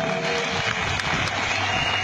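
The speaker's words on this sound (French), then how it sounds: "Il faut les applaudir." Sustained dense applause from a large crowd at a political rally in Anono, greeting a strong delegation; steady clapping throughout the short stretch with a faint voice beneath.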